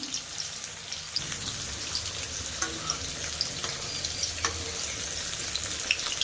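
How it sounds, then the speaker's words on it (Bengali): Onion fritters (peyaji) deep-fry in hot oil, a steady fine crackle and sizzle with scattered sharper pops, moderately quiet and with no talk. "খুব ভালো রকম কিন্তু ভাজা হয়ে গেছে। এবার প্রত্যেকটা পেঁয়াজিকে আমি উল্টে দেব।"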